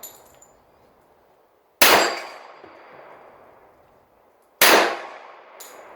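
Two sharp, loud pistol shots from a Remington-Rand 1911A1, roughly three seconds apart, each with a sudden crack and a long ringing decay outdoors, separated by quiet.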